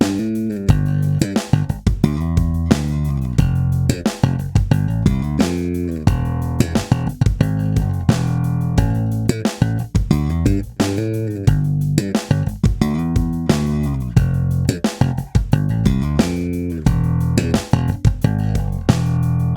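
A slap bass line loops round and round, with punchy thumb slaps and popped notes driving a busy, continuous rhythm, loud and up front throughout.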